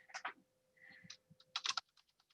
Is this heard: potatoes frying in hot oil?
no